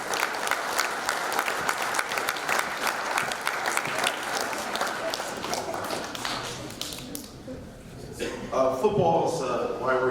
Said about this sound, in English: let's give your parents a round of applause